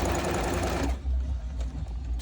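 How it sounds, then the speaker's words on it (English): A sewing machine stitches quilt seams at a 1/4-inch allowance, a fast loud whirring run that stops partway, leaving a quieter motor hum. "I'm just sewing all of them"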